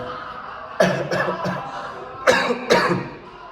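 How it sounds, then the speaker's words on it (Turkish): Several sharp coughs, a quick cluster of three followed by two more after a short pause, close and fairly loud. "Öksürük."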